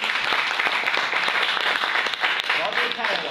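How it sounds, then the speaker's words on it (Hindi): Audience at a motivational seminar bursting into sustained applause, dense hand clapping filling the room loudly and continuously from start to finish, with voices mixed underneath. "बजाओ फिर ताली।"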